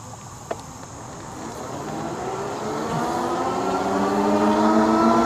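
Glion B1 foldable electric bike accelerating from a standstill on throttle, a whine rising steadily in pitch and growing louder over several seconds against road and wind noise, with one short click near the start.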